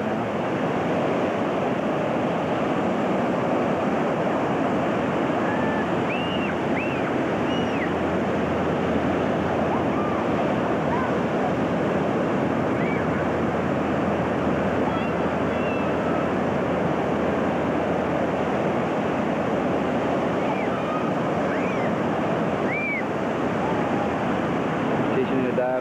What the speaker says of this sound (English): Through the waves.